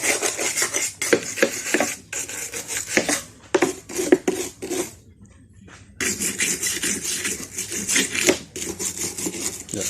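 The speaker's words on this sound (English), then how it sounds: "So let me look for a wire brush." A wire brush scrubs corroded parts from a 2002 Fielder car in rapid, loud, rasping strokes, broken by a brief pause before the harsh scraping resumes.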